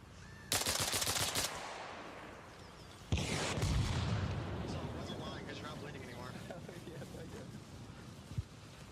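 Video game gunfire as enemies are double tapped: a sharp burst of shots, then a second loud burst, with echoing tails and someone talking over the game.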